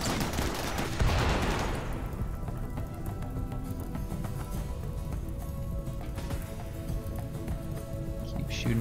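A RimWorld raid fills the scene with steady, dense gunfire: rapid shots and fusillades crackle continuously, with a louder burst early on and quieter talk in the mix.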